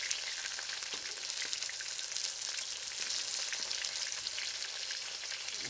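Chili shrimp sizzle in a pan with a steady, moderately soft hiss and scattered little crackles, continuous throughout with no voices.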